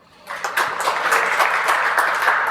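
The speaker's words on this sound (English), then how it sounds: "she deserves a round of applause as well" A conference audience applauds at a future computing summit, dense steady clapping rising quickly after a brief quiet start and holding strong throughout.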